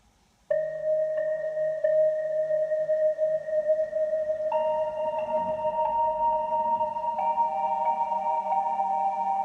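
Sustained Vital synthesizer melody with a compressor added, stepping between held notes over a soft bass, evenly leveled and smooth, with no talking.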